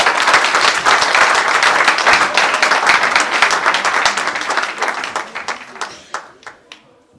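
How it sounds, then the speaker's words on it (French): Audience applause for a church worship group at an Easter praise evening, loud dense clapping that gradually thins into a few scattered claps before stopping. "On peut les applaudir."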